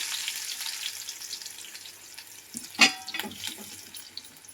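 Garlic and slit green chillies frying in a spoonful of oil for a Malvani mixed fish curry, a soft continuous sizzle with one sharp clatter of a utensil partway through and a few lighter knocks after.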